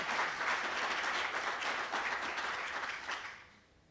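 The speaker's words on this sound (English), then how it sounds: "So if we could please honor Dennis with a round of applause." An audience at a university college's 50th anniversary event applauds to honor a faculty member, steady clapping from many hands that fades out near the end.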